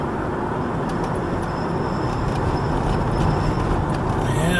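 Dump truck pulling away and gathering speed on a town road, a steady broadband engine and road rumble heard from a following car, continuous and fairly loud throughout.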